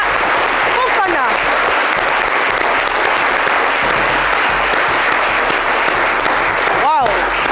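A French television studio audience claps loudly and continuously for the 2024 world slam champion, a sustained wash of hands with a brief whooping voice cutting through near the end.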